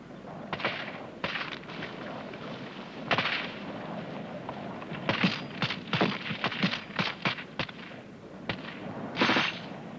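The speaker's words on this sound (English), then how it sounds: "Rifle group, rapid fire! Gun group, on! Go!" Military section rifle group firing rapidly in a fire-and-manoeuvre assault, a dense volley of sharp gunshots at uneven spacing, some bursts quick and clustered, loud and close over a constant background rumble.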